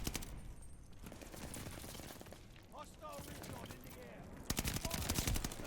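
Gunfire in a first-person shooter video game, with rapid bursts of shots layered over dense game noise and a louder volley near the end.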